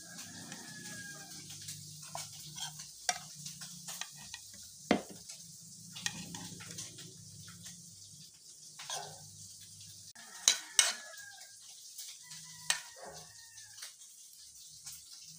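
Paksiw fish frying in a pan, a steady low sizzle running throughout with occasional sharp clicks and utensil knocks, plus a few faint dog barks in the background.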